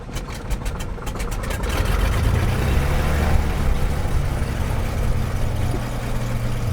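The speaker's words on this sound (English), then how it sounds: "engaging the ignition switch to start the engine" A light aircraft piston engine is started during an aircraft inspection and settles into a steady idle, loud and continuous with a low rumbling drone after a brief start-up.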